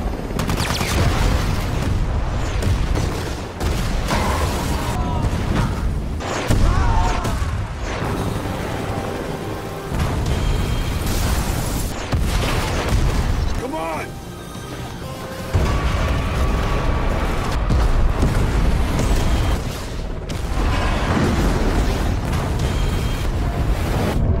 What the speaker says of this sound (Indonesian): langsung menghujani Mars dan anak buahnya dengan ledakan yang mematikan